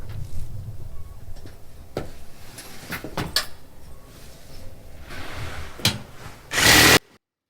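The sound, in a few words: power tool cutting a plastic tote in half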